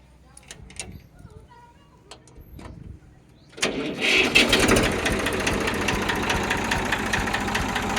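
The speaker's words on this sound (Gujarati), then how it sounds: "સેલ્ફ સ્ટાર્ટ કન્ડિશનમાં ટ્રેક્ટર છે હવે આપણે તેને ચાલુ કરીને બતાવીએ" Faint clicks and brief voices, then a self-start tractor with a Simpson engine cranks and roars to life, settling into a loud, steady rumble.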